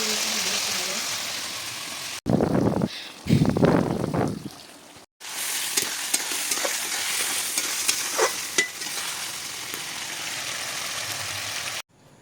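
Chopped onions frying with spices in a pan while being stirred, a continuous sizzle broken by louder scraping stir bursts early on, then steady crackling frying with occasional pops.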